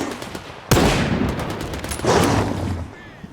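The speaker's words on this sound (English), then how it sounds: "Let me get better angle to shoot them." Gunfire in the video game Stalker 2: two loud, close blasts, about a second and a half apart, each with a rolling, reverberant tail that fades slowly.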